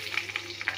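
Garlic frying in hot oil in a village-style pan for fish kulambu, a soft steady sizzle with a few brief crackling bursts, close and fairly quiet.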